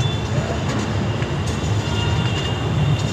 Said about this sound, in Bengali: নির্ধারিত সময় থেকে আমাদের ট্রেন 5 মিনিট দেরিতে বারাণসী ঢুকছে